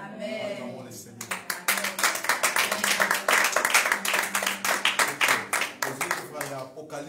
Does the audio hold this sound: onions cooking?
no